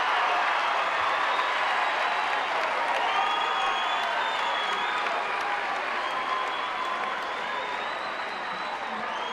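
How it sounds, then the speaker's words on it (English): Deafening crowd at a state semi-final basketball game between Columbus Grove and Minster, a dense, loud wall of cheering, clapping and shouting that stays sustained for the whole stretch, with a broadcaster's voice faintly in the mix. "And this crowd is deafening."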